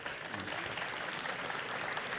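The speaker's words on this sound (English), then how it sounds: "Round of applause for Kenobi." A fan convention Q&A audience claps for a guide dog, a dense, even patter of many hands sustained for a couple of seconds, fairly distant and without talk.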